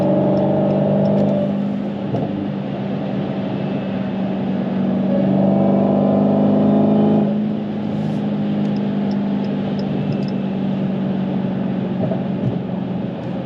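A manual Dodge Challenger Hellcat V8 roars steadily from inside the cabin while accelerating to pass cars on a road in Mexico. The engine note swells in two surges and stays loud and continuous throughout, with no talking.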